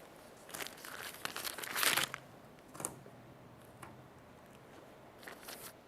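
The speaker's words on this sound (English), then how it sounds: "let me go ahead and peel off this tape" Masking tape peels off car paint in a series of close, crinkly tearing rips, with a louder burst near the start, then quieter intermittent crackles, and no talk.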